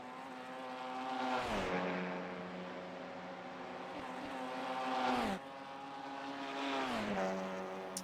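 Audi RS 3 LMS race car engines roar through gears in iRacing at Bathurst, a loud sustained harmonic drone with two sharp upshift drops before climbing pitch again, no talking.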